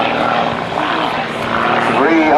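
Propeller drone of an aerobatic airplane racing the Shockwave jet truck at an airshow, a loud continuous engine roar rising slightly at the end, with an announcer talking over it.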